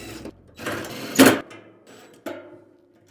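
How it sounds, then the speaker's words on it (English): A screw gun drives the included screws into a mounting bracket on a 29-inch smokeless steel fire pit, with a few short whirring bursts of the driver, one louder, close by and without talk. "using the included screws, I'm going to use my screw gun and put it on in."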